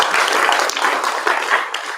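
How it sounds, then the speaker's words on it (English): An audience at a county spelling bee applauds the spellers, giving a dense, steady patter of many hands clapping close by for a couple of seconds. "Okay, round of applause."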